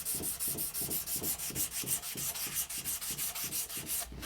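Sandpaper of 600 grit rubbed over a knife handle clamped to a table, a rapid, even back-and-forth scratching of about four strokes per second, close and clear.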